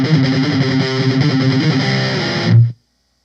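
Distorted electric guitar plays a verse riff at a slow pace, a loud, saturated run of notes ending on a final held note that is cut off abruptly.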